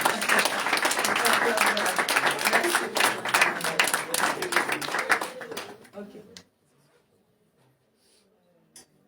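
A church talk-show conference audience bursts into loud, sustained applause and cheering from a crowd for about six seconds, then it cuts off abruptly to near silence.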